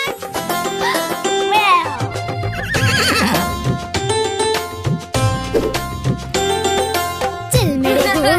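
Loud horse neighs and whinnies ring out repeatedly over bright cartoon-style kids' song music, with clip-clop-like accents between the calls.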